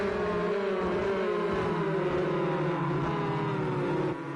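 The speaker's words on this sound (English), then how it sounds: "Hear the roars of the engines" Race car engines roar in Project Cars 2 during a bunched-up online race, a dense, continuous drone of several engines revving and shifting together, loud and steady, with no talk.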